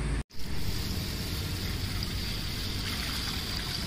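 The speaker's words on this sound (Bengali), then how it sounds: "তো এটাকে আমি জল দিয়ে ভিজিয়ে দেবো" Water is poured over rice in a bowl to soak it, a steady close rushing pour that runs unbroken after a brief gap at the start, with no talking.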